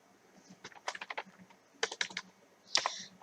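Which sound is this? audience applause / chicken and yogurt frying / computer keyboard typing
computer keyboard typing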